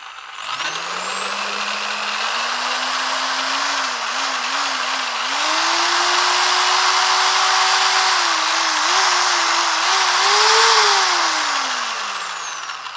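A Bosch GSB 10 RE 500-watt corded electric drill runs at no load, whining as it spins up, wavering, then holding at a higher speed before winding down, loud and close with no voices.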